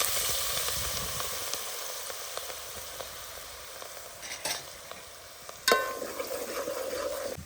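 Grated ginger frying in a pan over a village chulha, a steady soft sizzle with stirring scrapes and a louder spatter burst near the end.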